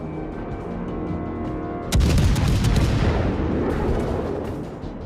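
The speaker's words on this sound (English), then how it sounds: "Destroyers shooting at us." Heavy naval gunfire from destroyers in World of Warships, a loud boom breaking in about two seconds in and followed by sustained rumbling blasts and crackling over a droning engine and game-music bed.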